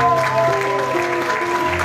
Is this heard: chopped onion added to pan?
no